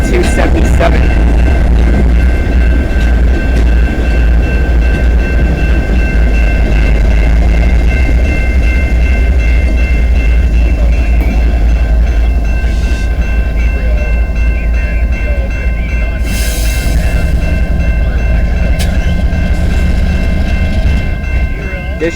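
A CN freight train passing through London East Yard, a loud, continuous rumble and rattle of rail cars that stays close and heavy for the whole stretch.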